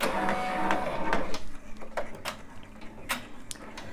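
An embroidery machine stitches a design onto a fleece scarf, a close mechanical whirring with quick ticking needle strikes and small clicks at an uneven pace.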